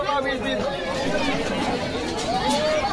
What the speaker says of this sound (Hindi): भारी भीड़ है संगवारी हो